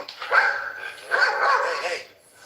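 A dog barks and yips close by in two loud bursts, with whining, strained vocal tones between them and no talking.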